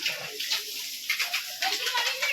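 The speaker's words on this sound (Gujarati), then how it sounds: "તો કમ્પ્લીટ અહીંયા મંદિર ધોઈ દઈએ." Water sluices and splashes across a temple floor during washing, a steady broad hiss with uneven bursts of spray throughout, and voices may be faintly present.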